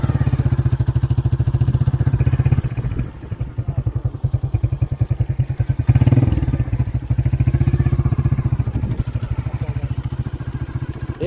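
A motorcycle rides along a dusty village road, its engine chugging steadily and loud up close, with rattling clatter and a brief dip in the noise partway through.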